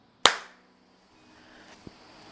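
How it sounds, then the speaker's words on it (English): A single sharp hand clap for a camera microphone test sounds near and loud, then rings off into a quiet room. A faint small tap follows a moment later. "I'm gonna do a clap"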